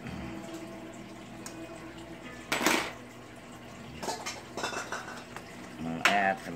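A fork or whisk clinks against a bowl while eggs are beaten for vegetable lasagna in a home kitchen, a few sharp clatters and scrapes spread over several seconds with quiet handling between them.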